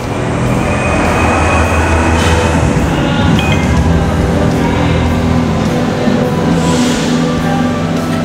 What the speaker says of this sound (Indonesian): Ini tempatnya kayak di stasiun kereta api nih. Ini keretanya.